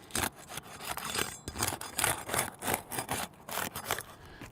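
Roofing shingles being pried loose to break the adhesive seal, giving repeated rough scraping and tearing strokes in an uneven rhythm, close and fairly loud with no talk.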